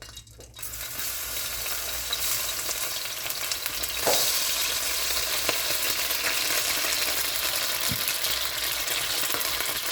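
Tomatoes sizzle loudly in a hot pan with vinegar added, a dense, continuous frying hiss that holds steady for ten seconds, with occasional light clinks of a utensil and no talking.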